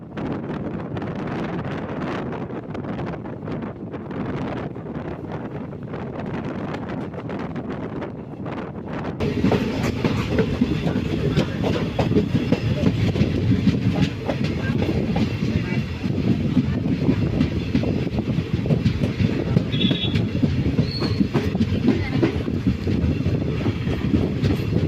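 Sabari Express, an express-category passenger train, rolling along the rails with a steady rumble and clatter, loud and close, wind rushing past the microphone; the noise swells sharply partway through and stays dense to the end.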